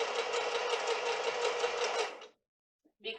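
A sewing machine stitches fabric with a steady, fast, close mechanical whir for about two seconds, then stops, followed by a short restart near the end.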